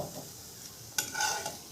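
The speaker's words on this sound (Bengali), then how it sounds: "তো এখানে আমি সাদা তেলে ভাজছি।" A beetroot paratha fries in white oil in a pan, with a steady close sizzle and crackle and a brief scrape of a utensil partway through.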